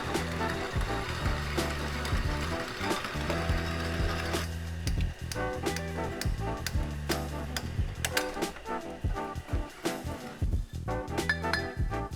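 A 1956 mill used as a notcher cuts bumper tubing for a Toyota Tacoma, giving a loud, continuous ratcheting grind with rapid repeated chatter and clattering bursts close by, no talking.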